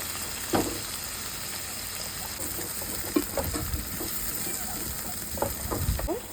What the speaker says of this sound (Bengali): আমি দিয়ে দিচ্ছি এখানে আদা জিরে বাটা, ধনিয়া বাটা, হলুদ বাটা